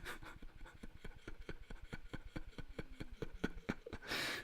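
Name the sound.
old cat snoring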